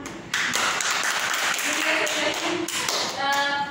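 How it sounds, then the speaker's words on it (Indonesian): A classroom of students clapping hands together during a teaching lesson, a dense burst of applause that starts abruptly and continues steadily, with a voice speaking faintly near the end. "Tepuk tangan dulu."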